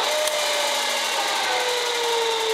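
A power tool cuts a small chamfer around the edge of a drilled hole, giving a steady, close, high grinding whine that holds evenly throughout with no voices.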